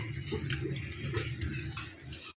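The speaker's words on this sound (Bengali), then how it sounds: "এনার ব্রাশ হয়ে গেছে, এখন মুখ ধুয়ে নিচ্ছে।" Tap water runs steadily into a sink while a child washes their face, a close, continuous rushing splash that cuts off abruptly after about two seconds.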